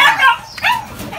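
A Phu Quoc puppy gives a couple of short, high whimpering yips close by, with brief gaps between them.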